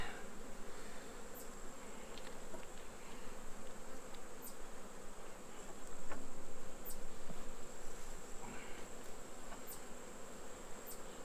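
Honey bees at an autumn hive hum in a continuous close buzz, with individual bees droning past the microphone and a few faint ticks and knocks from the hive, no voices.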